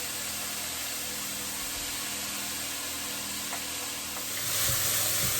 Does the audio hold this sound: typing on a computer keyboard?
no